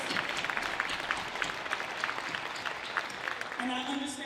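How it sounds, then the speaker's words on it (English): Steady applause from a lecture audience, dense clapping filling the whole stretch at moderate loudness, with a brief tone appearing near the end. "Let's give them a nice hand clap of praise."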